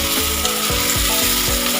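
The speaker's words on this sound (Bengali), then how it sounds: "এবারে এটা আমি একটু কষিয়ে নেব যতক্ষণ না তেল ছাড়বে" Loud, continuous sizzling of sea fish frying in hot oil, with rhythmic scraping and stirring strokes repeating every fraction of a second, close up.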